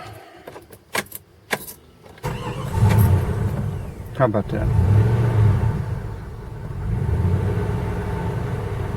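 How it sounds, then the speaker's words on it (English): Keys jangle in the ignition of a 1995 Jeep Grand Cherokee ZJ with a 5.2 engine and a newly replaced crank sensor, then the engine cranks briefly, catches and settles into a steady, low idle while a person speaks. "let's see if it'll crank back up"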